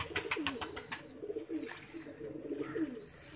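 Pigeons coo in a loft of high-flying birds, soft throaty calls repeating under rustling and faint chirps, with a few sharp bright sounds early on.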